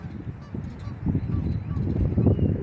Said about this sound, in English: And then we got some geese flying.